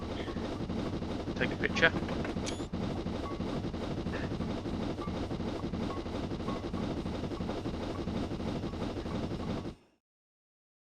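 BR 4F Fowler steam locomotive running in Train Simulator 2016, a steady rhythmic chuffing and rumbling drone that holds at an even level for nearly ten seconds before cutting out abruptly, with a brief spoken remark early on.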